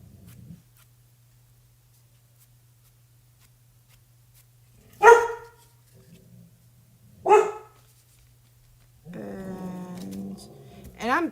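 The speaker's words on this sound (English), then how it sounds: "This dog has gotten so mouthy lately." A dog gives two sharp, loud barks a couple of seconds apart in an otherwise quiet room, and a person starts talking shortly afterwards.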